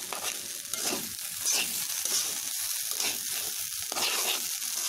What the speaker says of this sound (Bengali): প্রথমে দিয়ে দিব লবণ, একটু নেড়ে দিব, কারণ নিচে না হলে লেগে যাবে।